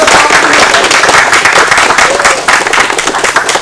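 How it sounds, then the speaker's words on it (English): A loud, close crowd applauds the winners of a competition, dense continuous clapping with some crowd noise throughout. "So round of applause for our two winners."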